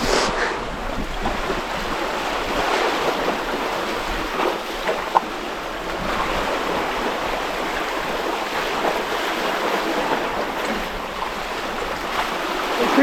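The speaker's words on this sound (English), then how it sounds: "I think there's a couple waves behind that boat coming over here" Ocean waves wash steadily below a large passenger ship, heard from several stories above the water, with wind buffeting the microphone in a continuous broadband rush for the whole stretch.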